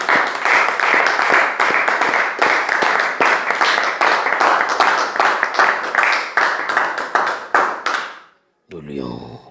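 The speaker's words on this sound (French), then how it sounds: "on peut applaudir pour lui" A congregation at a church service bursts into applause, with dense, loud clapping that carries on for several seconds, then stops abruptly before a short burst of other sound.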